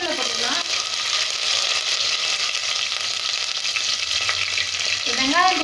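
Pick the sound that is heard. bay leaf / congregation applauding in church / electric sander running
bay leaf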